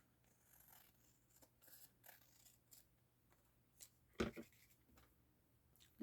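Scissors cut paper for a handmade craft card, giving a series of short, faint snipping and rustling strokes up close, with one sharper, louder cut near the end.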